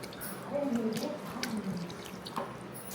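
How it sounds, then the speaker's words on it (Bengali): Water runs from a tap for hand washing before a meal, a steady near splash with a few drips, while a person talks over it. "তো হাতটা ধুয়ে নিয়ে চলো"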